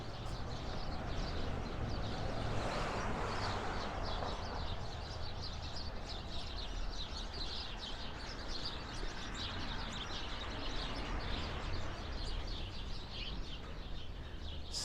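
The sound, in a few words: sparrows chirping on a Brooklyn street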